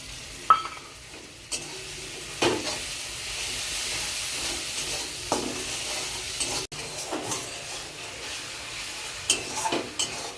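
Ginger garlic paste, chili, cumin, turmeric, meat masala and chili powder fry in oil for a fish curry, a continuous hiss and sizzle broken by several sharp spatula scrapes and stirs throughout.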